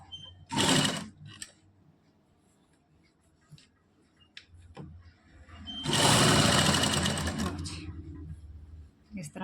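An electric sewing machine stitches piping onto the side slits of a garment in two bursts, a short whir followed later by a longer steady run, with quiet handling sounds between.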